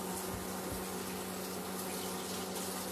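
Squash is rinsed under a running kitchen tap, giving a continuous close splashing rush of water with faint low bumps as it is turned, steady throughout.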